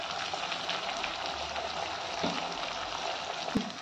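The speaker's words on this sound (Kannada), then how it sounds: "ಈಗ ಚೆನ್ನಾಗಿ ಫ್ರೈ ಮಾಡ್ಕೊಳ್ಳಿ." Spices such as coriander, cumin, garam masala, chili powder and turmeric frying in hot oil for a samosa-style snack, a steady soft sizzle with a couple of faint stirring clinks.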